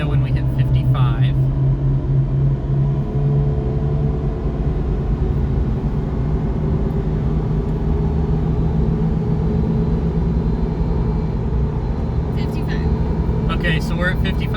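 A Mitsubishi Pajero Mini kei car cruising at about 55 mph, heard as a steady, loud in-cabin drone of engine and road noise that holds constant throughout, with brief voices at the start and end.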